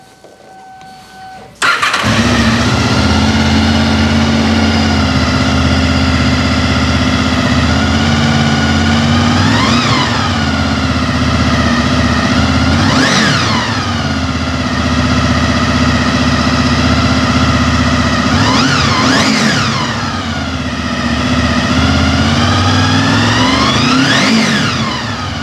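A Honda VFR800F motorcycle engine cranks and fires into a loud, steady idle close by, with four smooth revs climbing and falling at intervals over roughly twenty seconds.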